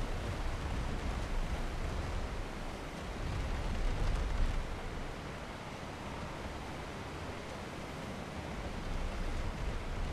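Rushing waterfall in the survival game Ark Ascended, a steady broadband roar of falling water that holds at an even, moderately loud level throughout with no voices.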